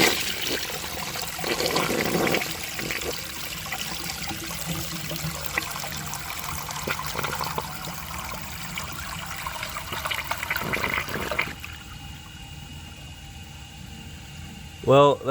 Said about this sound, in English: do another flush and see if it can take it from there